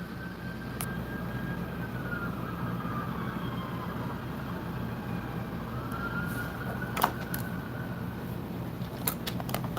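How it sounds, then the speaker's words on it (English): A distant siren wails faintly, rising and falling over a constant low rumble, with a few sharp clicks near the end. "I hear the siren going off."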